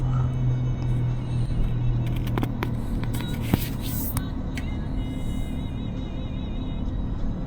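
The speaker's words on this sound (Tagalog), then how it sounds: "Miami bus, reckless yung pagmamaneho ng driver nyo" A Miami bus driven recklessly, passing on the road as a broad, steady engine and tyre rumble with brief scraping and rattling bursts midway. Heard up close from the roadside with no talk.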